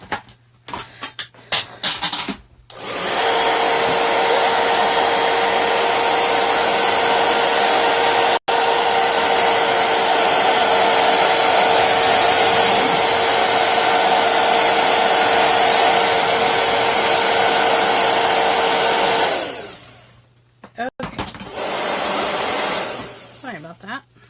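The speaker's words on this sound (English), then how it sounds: "I'm going to take my hairdryer and dry the rest of my bunny." A hair dryer roars steadily at close range with a constant high whine for most of the clip, surrounded by brief bumps and handling noise.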